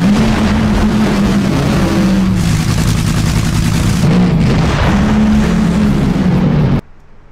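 A 10,000 horsepower NHRA drag racing funny car thunders at very close range, a loud, rough, sustained engine roar with shifting low tones that cuts off abruptly near the end.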